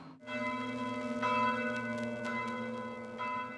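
Church bells ring in a contemporary composition set against late-Gothic church paintings, a steady sustained toll with rich ringing overtones and a few brighter strikes, alone and fairly loud throughout.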